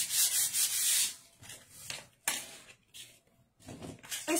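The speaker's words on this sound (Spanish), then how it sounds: "vamos a lijar con esta lija que es 280" Sheets of cardboard being sanded with 280-grit sandpaper for a 3D cardboard unicorn picture frame, giving repeated bursts of dry rubbing strokes with short pauses between them, close and fairly quiet.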